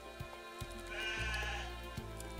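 A single sheep bleats in a video game, a clear wavering call lasting about half a second, set over a low steady hum and a few soft clicks.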